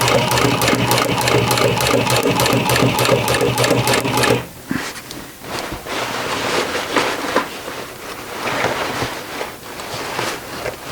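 Sewing machine stitching denim jeans: a close, loud, rapid mechanical hum with even needle beats for about four seconds, then quieter intermittent rattling and handling noises as the fabric is adjusted, with no talking.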